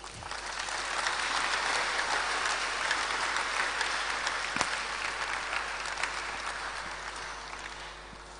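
A big round of audience applause at a Kumasi conference event for someone speaker, dense and sustained clapping that swells in and holds loudly for several seconds, broad and even like a packed hall.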